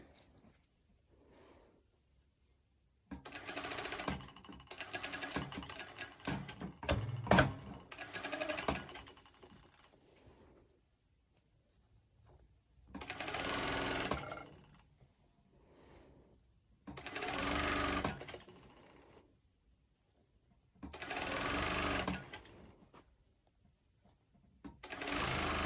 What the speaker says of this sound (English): You just have to top stitch everything you've stitched before.